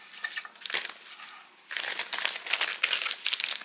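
Plastic freezer bag crinkling close up as cut-off broccoli stalks are dropped in for saving veggie scraps, a crisp rustle that pauses briefly then resumes in a longer, busier burst.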